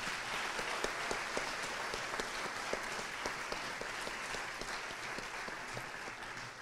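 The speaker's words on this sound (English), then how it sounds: "Let's give them one more round of applause for their dedication to igniting the 4-H program." An audience at a 4-H awards ceremony claps in sustained, dense applause, even and moderately distant, holding steady across the room before tapering slightly at the end.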